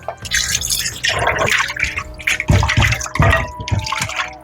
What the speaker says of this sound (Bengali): মাংসটা ভালো করে ধুয়ে নিয়ে নিয়েছি